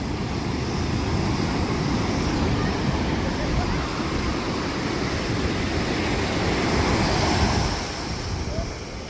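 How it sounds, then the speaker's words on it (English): Pacific Ocean surf breaks continuously on the shore at Santa Monica, a loud, steady wash of waves with wind buffeting the microphone throughout. "Well, I've put my feet in the Pacific Ocean."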